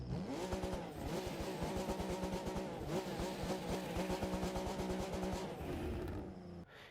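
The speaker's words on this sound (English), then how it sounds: "of course it is going to be a ZX with that signature engine sound." A Nissan 300ZX Z32 Malu Edition in the racing game The Crew 2 drones loudly and continuously with a buzzy engine note for several seconds before cutting off abruptly.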